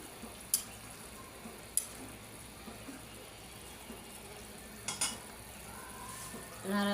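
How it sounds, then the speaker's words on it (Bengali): Beef bhuna for a black beef curry is stirred in a pot, a soft, steady scraping with a faint sizzle, punctuated by a few sharp clinks of a spoon against metal, close and fairly quiet with no talking. "আগে এগুলো আরেকবার নাড়া দিয়ে দিই।"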